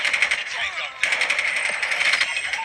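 Rapid machine gun fire from the Call of Duty video game played on an iQOO 11 phone rattles in dense, continuous bursts, with a sharp surge of shots about a second in.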